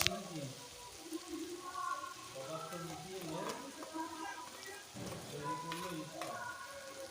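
Mustard paste frying and being stirred in hot oil for bitter gourd chorchori, a soft continuous sizzle with faint spoon scrapes and someone speaking over it.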